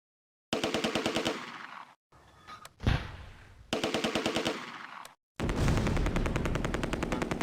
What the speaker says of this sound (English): An MG42 opens up from the Romans' plain area